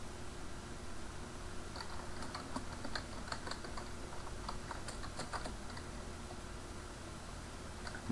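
Keys clatter on a computer keyboard as a Linux command is entered at a root shell prompt, a quiet, close burst of uneven taps over a steady fan hiss, with no one speaking.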